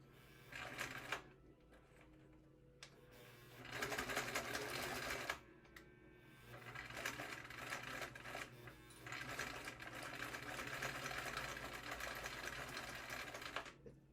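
A sewing machine back-stitches across the edge of a wallet pocket, whirring in long continuous runs broken by short pauses, close and fairly quiet, with no speech.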